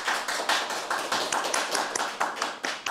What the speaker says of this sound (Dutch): Geef ze een heel groot applaus